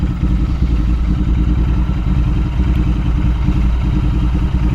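Royal Enfield Interceptor 650 motorcycle engine pulling in a short first gear while riding, a steady loud low rumble with a throbbing pulse and some mechanical clatter, continuous and close.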